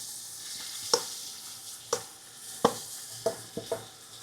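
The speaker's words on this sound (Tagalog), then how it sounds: "ilalagay na natin tong tinadtad na mga laman loob" Chopped offal sautéing for papaitan in a pan, a soft steady sizzle broken by several sharp utensil clinks and scrapes at irregular intervals, close and fairly quiet with no talking.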